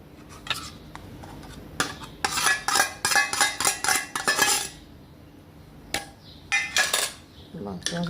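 Dal dhokli ingredients, grated ginger among them, stirred in a pot with a utensil, giving a run of close metallic clinks and scrapes in bursts with pauses between.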